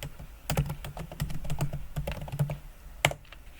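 Keys clatter on a computer keyboard in a steady run of typing, close and moderately loud, ending with one harder keystroke, with no speech.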